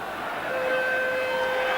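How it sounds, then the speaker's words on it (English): Full-time siren at a Leeds versus Australia rugby league match, a steady two-tone wail sounding over the loud, continuous roar of the stadium crowd. "And there's the full-time siren."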